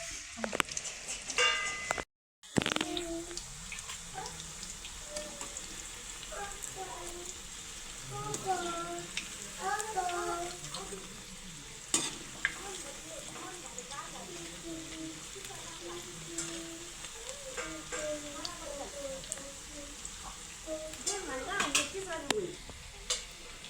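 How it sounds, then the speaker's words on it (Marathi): Bhaji fritters fry in hot oil with a soft, continuous crackle and sizzle, while people talk nearby throughout. "भजी तळून घ्यायचं"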